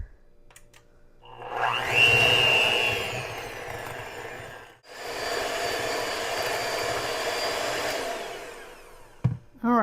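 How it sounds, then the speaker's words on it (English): An electric mixer beating mashed squash with butter and yogurt, a loud continuous motorized whir that runs for several seconds, briefly cuts out, then resumes steadily until a short clatter at the end. "I'm going to use an electric mixer to beat this to see if I can get it nice and fluffy"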